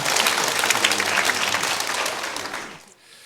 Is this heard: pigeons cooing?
no